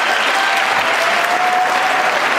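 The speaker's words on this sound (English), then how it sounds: "What is this cheering?" A large audience at a Biden speech breaks into loud, sustained applause, dense even clapping with a faint cheering tone, no speech over it.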